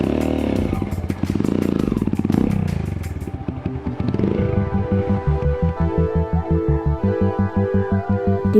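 A trail motorcycle climbs toward a coffee plantation at 1,800 to 1,900 metres on Mount Latimojong, Sulawesi, its engine loud and close with a steady chugging pulse and rattling clatter as the revs shift.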